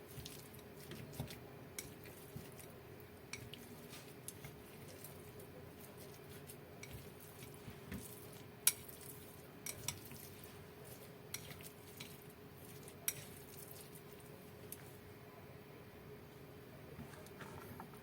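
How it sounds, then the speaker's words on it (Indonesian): Seasonings are stirred into a chicken, mushroom and dried shrimp stuffing for tofu with soft, wet squishing and occasional light scrapes and clicks of a utensil against a bowl, close and quiet. "jadi ini semua bumbunya aku campur ya biar rata"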